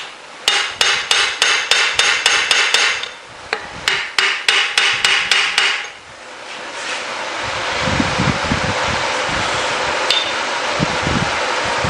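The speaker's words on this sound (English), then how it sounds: "Let's do the brass punch" A brass hammer strikes a brass punch to drive a pin on a 1916 Pratt & Whitney lathe, giving two runs of sharp, evenly paced metallic blows, about ten each, followed by blowing wind-like noise.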